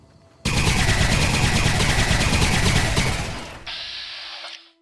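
Sustained rapid automatic gunfire from a Fallout: New Vegas firefight against a Cazador, loud and dense for about three seconds before easing off into a brief trailing burst.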